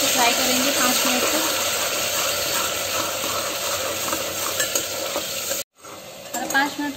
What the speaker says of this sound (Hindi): अब इसमें हम टमाटर का प्यूरी ऐड कर देते हैं। अच्छे से फ्राई करेंगे 5 मिनट